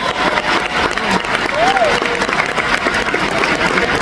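An audience in a seminar hall on stock market investing applauds the speaker's father, a dense, steady clapping held up for several seconds, with a voice faintly audible underneath.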